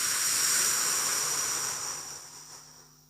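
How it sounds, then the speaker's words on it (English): A loud, breathy exhale through the mouth during a guided breathing meditation, a broad airy rush that starts strong and slowly tapers off over about three seconds, heard alone with no talking. "Hold and breathe out through the mouth"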